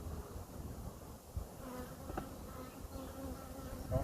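Honey bees hum around hive frames in a soft, continuous buzzing swarm, quiet and close, with faint clicks of frames being handled.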